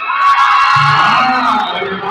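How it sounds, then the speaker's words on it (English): Supporters cheer loudly at the Ginoong Sangyaw 2024 male pageant top 10 announcement, a dense crowd of whoops and yells sustained throughout, with some voices shouting over the din. "Bumangin yung pag-cheer guys"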